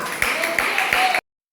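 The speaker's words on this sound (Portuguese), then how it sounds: "Aplaude a Ele." A church congregation claps in a few rhythmic bursts under a preacher's voice, fairly close, and the sound cuts off abruptly after about a second.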